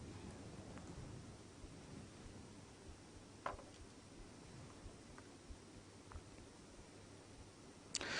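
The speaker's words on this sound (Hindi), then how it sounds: "हैदराबाद शहर के मुख्तलिफ इलाकों में आज शदीद बारिश हुई" Heavy rain pours steadily across Hyderabad as a dense, even hiss, with a few faint distant rumbles of thunder and brief sharper spatters, and no voices.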